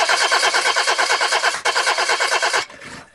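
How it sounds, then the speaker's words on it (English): Car engine cranking repeatedly without catching, a fast rhythmic starter churn that runs about two and a half seconds, pauses briefly, then stops abruptly. "Car won't start?"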